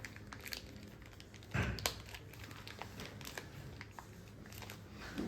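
A sturdy pouch from a DJI Mic Mini box is handled and opened, giving close crinkling and rustling with a couple of sharper crackles, fairly quiet and without talk.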